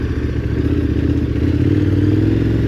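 A KTM 1290 Adventure R V-twin motorcycle engine idles close by with a steady, loud, throbbing rumble that holds even throughout on an Australian bush trail.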